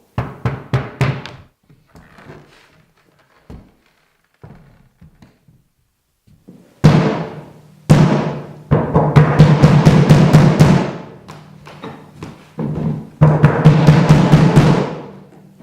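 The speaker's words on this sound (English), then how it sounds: "Let's look at how the bass drum sounds right now." Bass drum with both heads finger-tightened thumps repeatedly, deep and boomy with a papery attack, first in sparse single hits, then in faster rolling bursts with long resonant decay.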